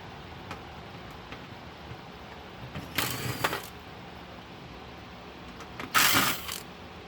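Screws are backed out of a Cisco Catalyst 2900 Series XL switch circuit board, with faint clicks and two short, louder bursts of whirring ratchet-like driver noise.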